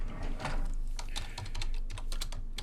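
Rapid clicking of keys on a computer keyboard as a short comment is typed, in a quick, uneven rhythm of close, crisp taps with no voices.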